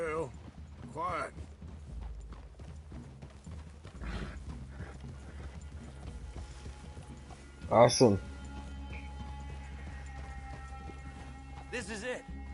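Horses walk in the Red Dead Redemption video game, their hooves clip-clopping at a steady pace through a quiet outdoor scene. Voices talk over the footsteps, and a louder burst of movement comes near the middle.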